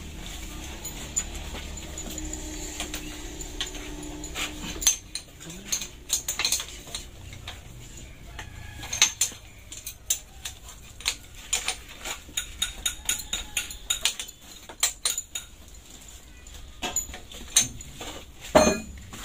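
Wrench tightening the nut on a fuel hose of a tour bus engine, a string of small metallic clicks and taps that grows busier and louder toward the end, close by over a low background hum.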